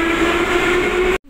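A Moscow metro train on the line near Kitay-gorod station, a loud steady rumbling drone with a sustained tonal hum that cuts off abruptly at the end.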